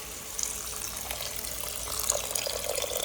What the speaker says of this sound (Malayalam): ആവശ്യത്തിനുള്ള വെള്ളം ഒഴിച്ച് കൊടുക്കാം.